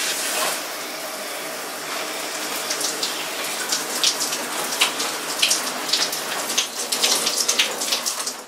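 Water running over hair to rinse out shampoo during a wash routine: a continuous close splashing hiss with irregular patters and drips, rising slightly toward the end, no talk.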